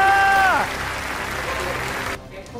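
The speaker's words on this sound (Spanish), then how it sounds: "Dale un aplauso a los cielos por eso" A congregation at an evangelical service claps in a continuous burst that runs for about two seconds and then cuts off abruptly, leaving near silence.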